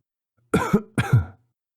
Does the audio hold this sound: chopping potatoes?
no